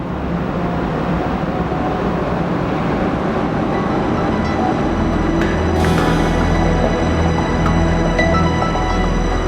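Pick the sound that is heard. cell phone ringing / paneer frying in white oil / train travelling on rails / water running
train travelling on rails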